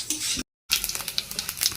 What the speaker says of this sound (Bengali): জিরেটা লাল লাল করে ভাজা হয়ে যায়।